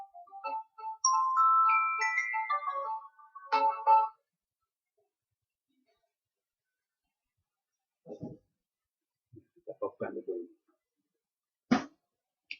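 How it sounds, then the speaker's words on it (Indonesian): A phone ringtone for an incoming call plays loudly for about four seconds as a bright repeating melody, then stops, followed by a few short quiet sounds. "sebentar ada telepon, saya off-kan aja dulu."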